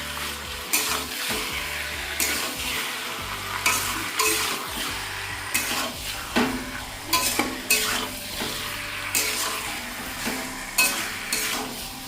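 Chicken pieces fry on high gas while being stirred in a pot, with a continuous sizzle broken by repeated rhythmic scraping strokes of the spoon, close and fairly loud.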